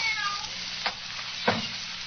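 A cat meows twice, short separate cries about half a second apart, close by over a quiet hum in a radio drama setting.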